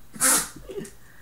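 A single sharp sneeze, loud and close, followed by a brief breathy exhale.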